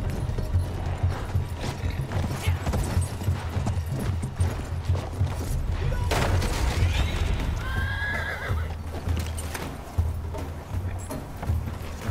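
A horse in the World War I shooter Battlefield 1 whinnies loudly over a steady clip-clop of hooves, amid continuous battlefield rumble and noise with no talking.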